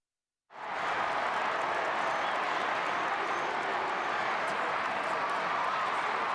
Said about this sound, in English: Crowd noise cranking up again here at AAMI Stadium.